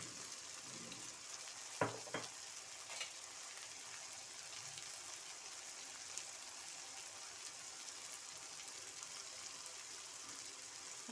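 Bottle gourd pieces with turmeric, salt and ginger garlic paste sizzle softly in a pan, a faint steady frying hiss with a couple of brief scraping clicks from stirring near the start.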